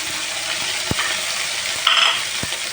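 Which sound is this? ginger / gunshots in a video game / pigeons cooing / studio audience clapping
ginger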